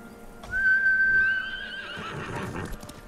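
A horse in the video game Ghost of Tsushima gives one clear, fairly loud whinny with a rising then falling tone, followed by a softer tail and faint background noise.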